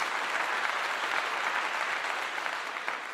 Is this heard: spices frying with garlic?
no